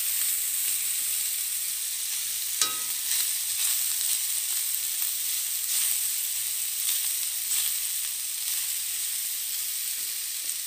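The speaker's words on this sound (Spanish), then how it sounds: "Ya le puse aceite, ahora le voy a poner el chorizo." Chorizo sizzles in a little oil in a pan, a steady bright frying hiss running throughout with a sharper crackle burst near the start and faint scrapes, no talking.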